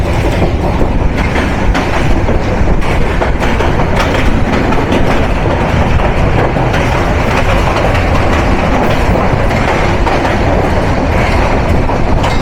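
A Nilsagar Express train runs on broad gauge track in rainy weather, its steady rumble and rhythmic clickety-clack of wheels carrying loud and close throughout, with a faint squeal of wheels now and then.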